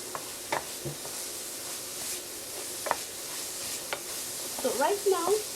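Chopped onion frying in a pan for beef lasagne, a steady soft sizzle broken by a few scrapes and stirs, close by, with a brief faint voice near the end.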